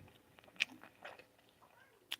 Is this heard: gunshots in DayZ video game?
no